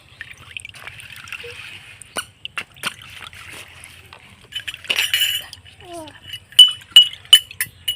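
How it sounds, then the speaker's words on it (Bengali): Homemade orange jelly mixture is strained through a strainer into a bowl. Close, scattered clinks of utensil on glass come with soft drips and trickles, growing busier toward the end. "আমি একটা চাটনির সাহায্যে ছেঁকে নিচ্ছি"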